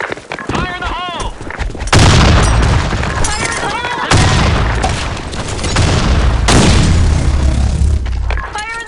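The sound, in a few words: grenade explosions and gunfire from video game BlackShot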